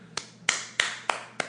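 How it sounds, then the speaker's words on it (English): Five sharp hand claps ring out at an even, slow pace, each a crisp, close slap that decays quickly against a quiet room hum. "Yes, that's me clapping in the background."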